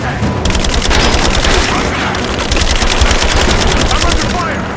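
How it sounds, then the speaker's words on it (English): Dense, sustained automatic gunfire from a firefight in the video game Rise of the Tomb Raider, loud rapid bursts rattling continuously with overlapping shots and a faint voice under the barrage. "I'm under fire!"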